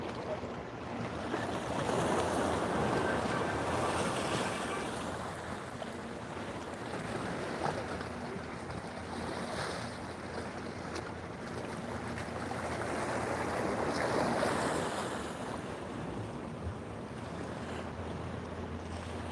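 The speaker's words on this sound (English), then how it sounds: "Surfers out there catching the first waves of" Ocean waves roll and break at Waikiki beach at sunrise while surfers are out, a continuous loud wash of surf with wind buffeting the microphone and swelling crests every few seconds.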